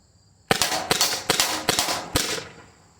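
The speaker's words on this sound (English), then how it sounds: "You can get shots off with this really quick, I gotta say." A less-lethal Byrna or Umarex T4E pistol fires five sharp, loud shots in quick, even succession, each a crisp crack with a short tail, then falls quiet.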